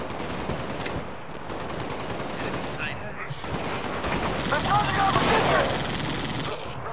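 Turret machine gun fire in Halo: Spartan Assault, rapid sustained bursts mixed with other gunfire and explosions of battle, dense and continuous, with someone talking over it.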